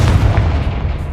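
A Confringo blasting spell in Hogwarts Legacy erupts as a short, heavy boom with a rumbling low-end burst that fades quickly, loud and close.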